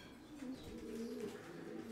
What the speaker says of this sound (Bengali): গালিব ভাই এখানে আমরা কি কবুতর দেখছি?